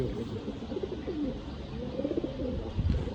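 Andhra, Malwai and Madrasi pigeons kept at home cooing close by, soft repeated low throaty coos overlapping over a steady hum of background noise.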